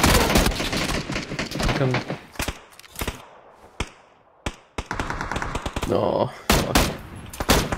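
Close, sharp gunshots crack in uneven bursts and single shots during a firefight inside a building in PLAYERUNKNOWN'S BATTLEGROUNDS, with brief quiet gaps between volleys and a few words spoken by a player.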